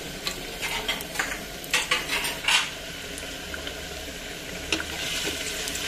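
Garlic and onion sautéing in oil in a pan, with a utensil scraping and clinking against the pan in scattered bursts over a steady low sizzle.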